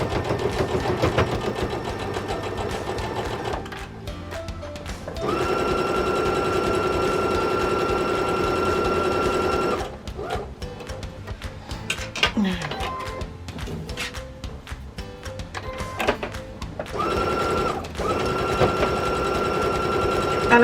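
Domestic sewing machine stitching fabric for an envelope cushion, a steady close mechanical whirr that runs in long bursts with short pauses between seams, over background music.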